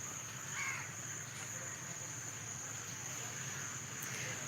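Crows caw outdoors, a few distinct calls rising over a steady hiss of background noise and insect drone.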